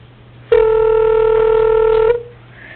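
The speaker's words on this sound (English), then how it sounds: "Get Mike on the phone here." A single steady electronic telephone tone sounds clearly for about a second and a half, starting abruptly and cutting off cleanly, heard during a county board of supervisors meeting as a call is being placed.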